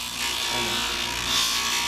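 A diamond grinding tool rasps steadily against a wooden coaster, continuous and close, with a gritty texture and no talking.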